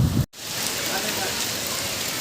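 Rain falling in Junagadh, a steady close hiss of drops on surfaces that starts after a brief cut and then continues evenly.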